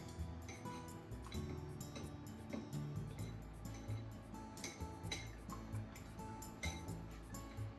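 A fork or whisk clinks rapidly against a bowl while an egg is beaten, a quick irregular ticking of metal on dish, fairly faint and close.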